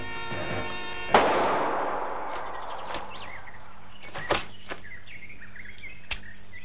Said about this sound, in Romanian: Nu se va auzi împușcătura?